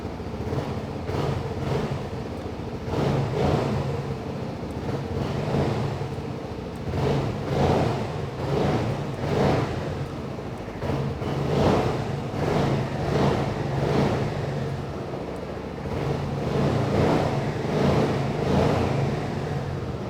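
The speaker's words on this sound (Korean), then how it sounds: "순정 머플러의 배기 사운드 한번 들어보고요" Stock-muffler exhaust note of a 2020 Suzuki Burgman 400 big scooter with 43,339 km, recently serviced, heard close up and alone as a steady idle with repeated throttle blips rising and falling across the whole stretch.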